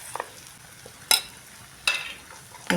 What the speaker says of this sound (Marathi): आणि बेसन आपलं चांगलं कच्चापणा कमी होईपर्यंत ह्या मसाल्यामध्ये परतून घेऊया.